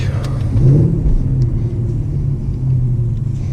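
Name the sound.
Mercedes AMG car engine while drifting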